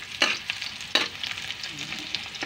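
Garlic and onion sautéing in a pan for chicken tinola give a steady close sizzle, broken by a few sharp scraping stir strokes near the start and middle, with no voices.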